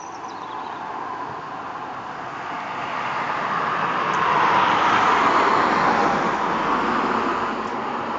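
Steady road traffic with cars passing on a nearby road during an outdoor jubilee lantern parade evening, a continuous broadband roar that swells in the middle and eases slightly toward the end, with no talk.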